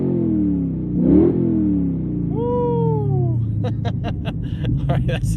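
A 2010 Hemi Challenger R/T V8 with electric exhaust cutouts open gives a deep throaty rev that swells and settles into a rumbling idle, with voices and background chatter over it.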